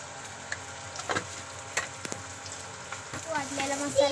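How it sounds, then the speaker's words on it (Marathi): Ground masala paste frying in a pan with red chilli powder and turmeric, giving a soft, steady sizzle with scattered light crackles and small stirring clicks, fairly quiet throughout. "वाटलेला मसाला, चांगलं परतून घ्या."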